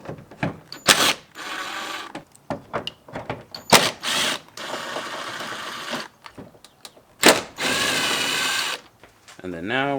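Power tool or drill bursts removing the four 10mm bolts on a Jeep Grand Cherokee WK2 backup camera: three loud whirring runs of a few seconds each, close up, separated by short clicks and handling noises.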